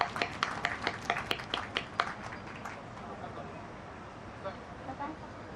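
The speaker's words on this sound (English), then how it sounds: "Give a big round of applause" Audience clapping at the Srikhetra Physio Manthan 2024 event, a burst of sharp claps in the first two seconds that thins out, then a few scattered claps under a murmuring crowd.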